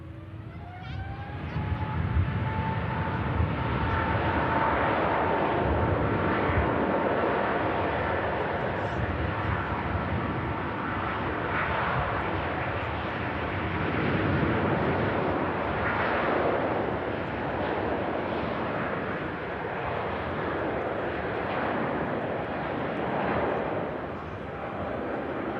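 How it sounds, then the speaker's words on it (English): An Airbus A350-900 departs for Hong Kong with a loud, sustained jet roar that rumbles and crackles throughout. A rising engine whine sits near the start, and voices are faintly present beneath it. "Off she goes to Hong Kong. The Airbus A350-900."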